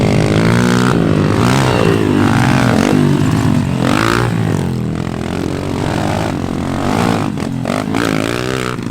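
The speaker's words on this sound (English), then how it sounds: "looks like we got a race going with Chris and Brandon here." Several pit bikes race around a dirt track, their engines loud and close, revving and shifting pitch in overlapping waves for the whole stretch.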